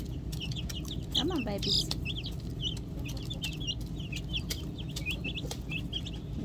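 Chickens cluck and baby chicks peep in busy, overlapping calls near and far, a rapid scatter of chirps over low clucking, with a person speaking softly once among them.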